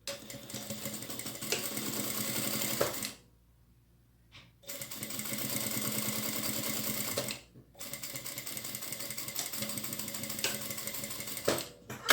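A sewing machine stitches a 1 cm seam through fabric pieces placed face to face, running in steady rapid bursts with short pauses between runs, close and clear.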